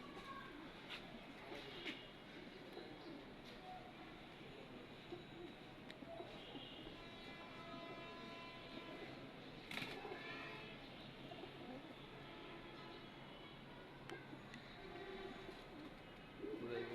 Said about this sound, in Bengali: কবুতরগুলো দেখ।